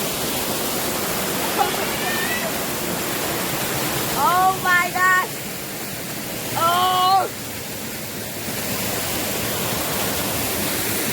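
A waterfall pours as a steady, full rushing roar throughout, with a person exclaiming briefly over the water partway through.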